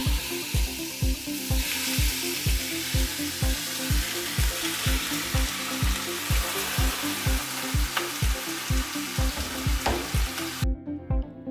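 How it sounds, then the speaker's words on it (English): Loud, continuous sizzling of pork frying in a pot for adobo, with a regular rhythmic knocking underneath and no talking. "we're going to throw this in the pot here and just listen to that sizzle."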